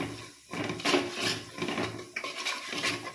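A pomegranate lemon pickle mixture being sautéed in a pan, with a spoon scraping and clattering against the metal in uneven strokes, fairly close and steady with brief pauses.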